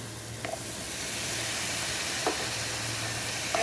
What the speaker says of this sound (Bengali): এখন এই পর্যায়ে দিব আমি 2টা টমেটো কুচি।